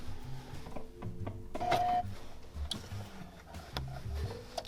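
A sewing machine stitches a raw selvage denim jeans hem, giving short, irregular mechanical ticks and clicks at close range with brief pauses between bursts.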